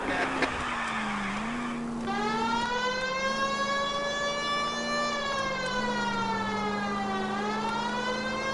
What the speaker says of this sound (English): The siren might keep people out of your way, Phelps.